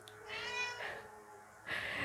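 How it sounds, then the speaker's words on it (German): A cat meows twice, two short, tonal, close cries separated by a brief pause, with no speech. "Miau. Miau."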